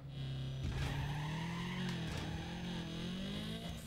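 A four-wheel-drive car spinning its wheels in Need for Speed Underground 2, a loud, continuous tire squeal over a rising engine whine, sustained for the whole few seconds.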